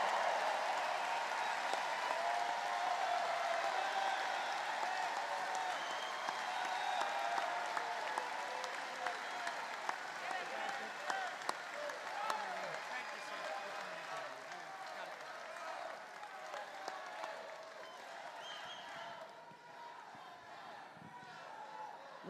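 A rally crowd bursts into sustained applause and cheering to welcome Patrick Morrisey on stage at a Trump MAGA rally, a dense wash of clapping that holds steady before gradually thinning.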